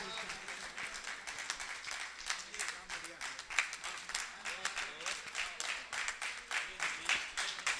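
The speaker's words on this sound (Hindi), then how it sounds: "यहाँ उपस्थित मेरे सभी भाई तालियां बजाकर खुद को सम्मानित होता महसूस करें" Audience clapping at a Hindi poetry recital (kavi sammelan), a faint, uneven patter of applause with rhythmic pulses, quiet and somewhat distant.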